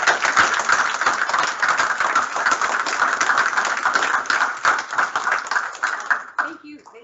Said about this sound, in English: So can we give a big round of applause for